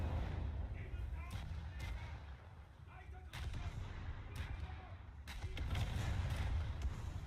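Warship turret guns fire in War Thunder naval combat, heavy booming reports with deep rumbling tails, several shots spaced a second or two apart over constant low engine and sea noise.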